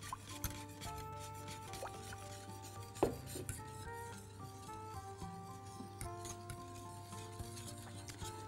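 Milk and starch stirred steadily into chocolate pudding in a pot, a faint continuous scraping and rubbing with a spoon knock partway through, low under a steady hum and background music.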